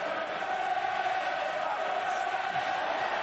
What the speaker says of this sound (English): Crowd doing their best to get behind the team